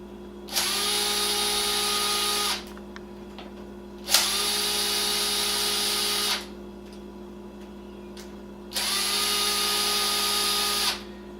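A power drill runs in three sustained bursts of about two seconds each, backing screws out of an engine cylinder head, with a steady low hum between bursts and a brief click or two in the gaps.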